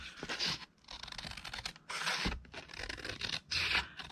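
Scissors trim the edge of a paper scrapbook layout in several close, crisp bursts of cutting and rustling paper, separated by brief quiet pauses.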